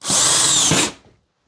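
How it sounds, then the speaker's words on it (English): A power drill whirs steadily as it drives a screw into drywall, a loud continuous burst lasting under a second before winding down to silence. "drop a screw in to hold it in place"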